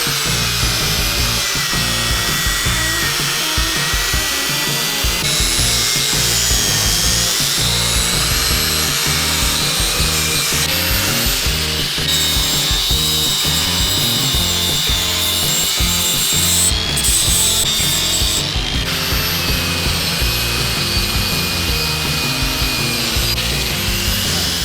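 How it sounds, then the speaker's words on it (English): A wire wheel on a power tool scrubbing rust off steel axle tubes from an axle housing, a loud continuous abrasive whine and grinding that runs unbroken, up close and alone. "I'm going to start right now with a wire wheel."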